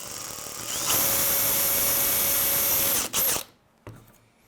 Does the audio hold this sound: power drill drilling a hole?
yes